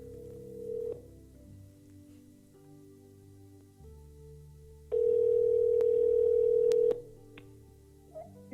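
A telephone call signal rings out during a Sunday worship service: a steady ringback tone with a long, loud continuous stretch in the middle, over a low background hum and faint music.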